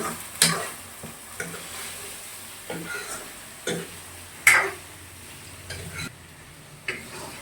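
Chicken frying in a pan with onion, ginger and garlic, heard as a low sizzle broken by several sharp stirring scrapes and clatters spread across the clip, close by and with no talk.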